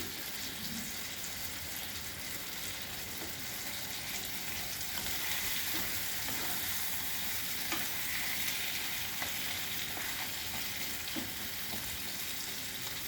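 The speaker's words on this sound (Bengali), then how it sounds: "এবার পটলগুলো এর সঙ্গে কষিয়ে নিতে হবে মশলার সাথে।" Pointed gourd sautés in a pan with spices and green chillies, giving a continuous close sizzle with occasional stirring scrapes and pops; no one talks.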